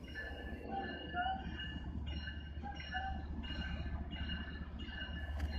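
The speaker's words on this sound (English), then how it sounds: "a BNSF locomotive pulls an autorack train forward" A BNSF locomotive pulls an autorack train along the rails, giving a steady, loud rumble with a low engine drone, rolling wagon noise and faint wheel squeal throughout, with no talking.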